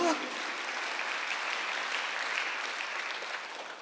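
A church congregation applauding during a Sunday service, a dense, even clapping that holds steady for a few seconds and then starts to taper off.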